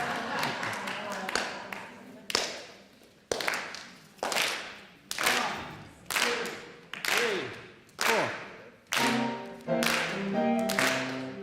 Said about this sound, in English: give me a clap, would you?